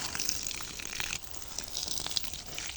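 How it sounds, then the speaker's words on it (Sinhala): Water pours and splashes steadily onto the ground around fruit trees on a farm, a continuous hissing gush with small surges, close by and without talk. "ගහ මෙහෙම නාවමු."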